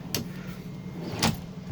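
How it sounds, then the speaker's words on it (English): A soft-close bathroom pocket door in a converted bus slides shut, giving two brief soft thuds about a second apart against a quiet background. "So the whole door is on a soft close"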